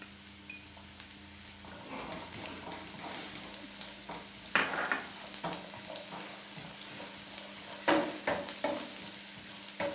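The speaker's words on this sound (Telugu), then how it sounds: "ఇది దోరగా వేయించుకోవాలి" Ginger pieces frying in hot oil for a ginger and red chilli chutney, a steady close crackling sizzle with occasional stirring scrapes and clinks, no talking.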